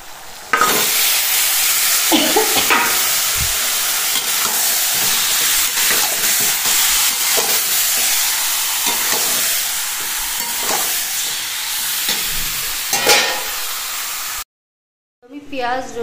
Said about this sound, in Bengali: চিকেনটা এবার দিয়ে দেব।